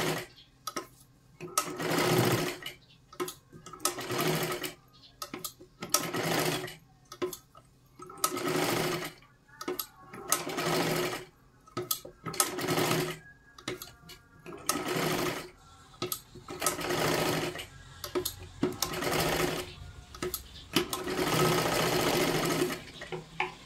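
A sewing machine stitching a blouse runs in repeated short bursts, whirring loudly for a second or two then stopping, in an irregular start-stop rhythm across the whole stretch with no talk.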